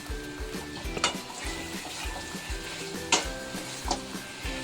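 Potatoes frying in a pan after being tipped in, a steady close sizzle with a few clattering knocks and stirring bumps, plus a faint continuous tonal hum in the background.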